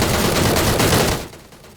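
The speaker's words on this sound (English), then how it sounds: "Shots coming flying down the bridge." Heavy, rapid gunfire from a PUBG firefight on a bridge, a loud, dense volley lasting just over a second before cutting off sharply.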